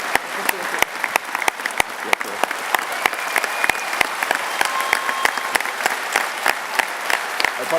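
Audience applause at a farewell ceremony for departing administrators, a steady dense clapping that holds evenly throughout, with voices faintly mixed in beneath.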